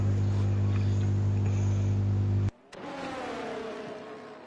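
A race car in a British GP sim race steady engine drone that cuts off abruptly, followed by a rising engine note as the car comes into the pits, close and fairly loud, no talk.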